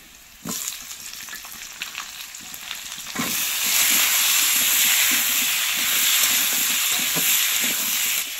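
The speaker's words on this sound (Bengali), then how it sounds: "দিয়ে ভালো করে ভেজে নেব আলু আর গাজর" Chopped potatoes and carrots tipped into hot oil with five-spice seasoning, a loud sizzling hiss that jumps up on contact and keeps going steadily, with light stirring scrapes, close and alone.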